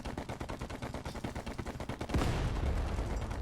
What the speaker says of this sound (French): c'est moi ou Gambit vient de tirer dans le rocher là?